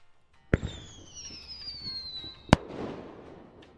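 A single firework goes off: a sharp pop at launch, then a long falling whistle as it climbs, ending in a loud bang and a brief crackling rumble; no voices.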